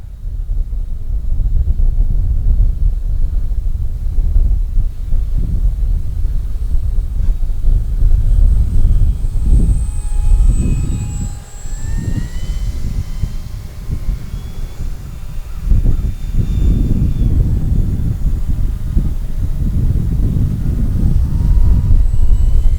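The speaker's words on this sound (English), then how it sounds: "This thing is a really light airplane." A Dynam Focke-Wulf FW-190 RC warbird plane flying overhead, a steady engine and propeller drone with a rising and falling pass, heard over strong wind buffeting the microphone.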